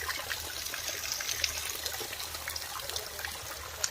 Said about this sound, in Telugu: ఈ నీళ్ళు వచ్చేసి